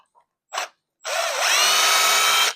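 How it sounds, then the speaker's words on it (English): Power drill running while working on a power amplifier, a short burst followed by a sustained, loud whir that rises in pitch as it spins up, close by with no talk. "Use the drill."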